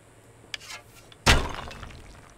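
A human-shaped figure of ash and ember in the game Betrayer bursts apart when shot: a faint click, a brief rustle, then one loud sharp crumbling crash that decays over about a second, with no talk.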